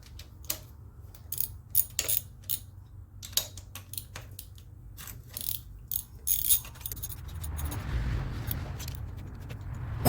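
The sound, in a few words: ratchet removing intake from Chevy 350 engine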